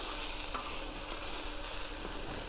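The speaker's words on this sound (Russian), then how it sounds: "Перемешаю это все." Ajapsandali vegetables sizzle and fry steadily in a pan made from a harrow disc, a dense, continuous hiss with faint stirring scrapes, close and loud throughout.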